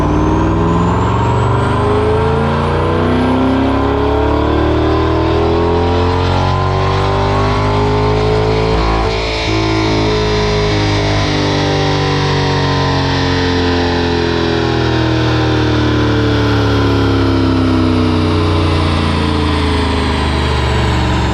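C8 Corvette engine revving hard on a dyno after an air filter swap, a loud sustained pull with pitch rising steadily, briefly dipping midway, then climbing again, no talking.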